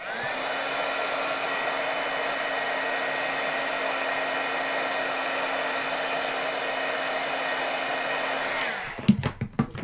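A heat tool dries ink between cardmaking layers, blowing a steady, close, whirring hum for about nine seconds before it switches off, followed by a few light clicks and handling knocks.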